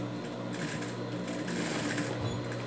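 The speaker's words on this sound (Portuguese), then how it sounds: "Vou dobrar aqui a bordinha e vou fazer retrocesso também." Close, steady mechanical chatter of a sewing machine backstitching the folded edge of a fabric dog shoe, running without pause and with no voices.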